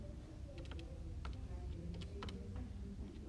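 Fingers tap calculator keys to enter a square root, a series of quick, light clicks in small irregular bursts, faint against a low background hum.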